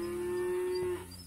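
A cow moos loudly and close by in a long, steady low call out in a cattle field, then the call breaks off and quieter farm ambience follows.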